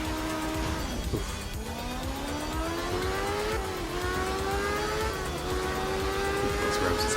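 A race car engine in a video game revs high and steady throughout, its pitch climbing and dipping through gear changes while tyres squeal and skid, loud and continuous with no talking.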